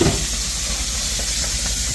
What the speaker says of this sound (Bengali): ইলিশ কি ভাজা হচ্ছে